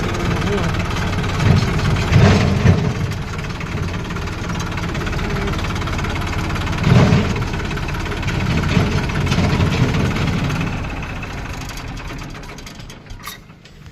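A steady low tractor engine rumble runs throughout at a weighbridge, idling with occasional louder bursts, while people talk over it.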